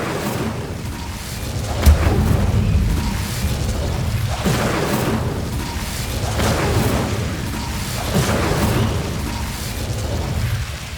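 Fire spell Incendio cast repeatedly in Hogwarts Legacy, producing loud whooshing bursts of flame over a dense, continuous rumbling game soundscape, with one sharp pop early on.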